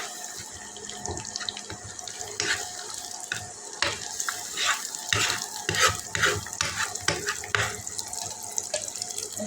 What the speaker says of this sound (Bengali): ডিমটা একটু নাড়াচাড়া করে ডিমটা যখন হয়ে যাবে এক সাইড করবো